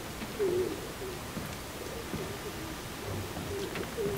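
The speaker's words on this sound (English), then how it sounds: "Maybe it's just the pigeons." Pigeons coo softly in the Call of Duty: Infinite Warfare game world, a few low, brief calls scattered across a noisy ambient background.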